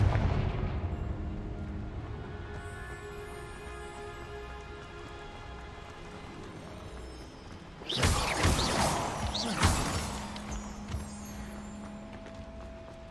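A Confringo blasting spell explodes in the video game Hogwarts Legacy: a sudden loud, crackling burst erupts partway through, ringing and fading over a couple of seconds against a quieter ambient game background.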